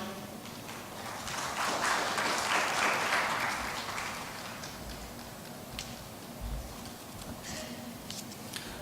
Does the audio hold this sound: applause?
yes